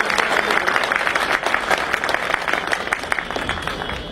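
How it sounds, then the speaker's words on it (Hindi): Loud, sustained applause from an audience at a symposium on lawyers' welfare held by the Bar Council of Delhi, many hands clapping at once, tapering slightly toward the end. "ये तालियों से इसका समर्थन चाहिए।"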